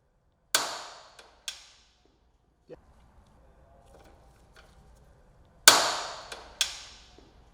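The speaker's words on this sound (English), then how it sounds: "attach the provided socket to the torque tool, and torque all fasteners on the rack assembly" A torque tool tightens fasteners on a Rhino Rack assembly being installed on a 2016+ Polaris GENERAL, giving sharp, close clicks: two near the start and two more near the end, with quiet handling noise between.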